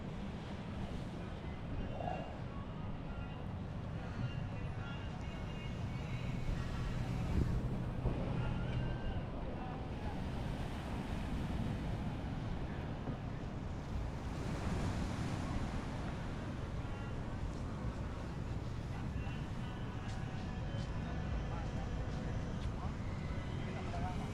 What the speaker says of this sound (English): So just going for a walk along the beach, just having a look around.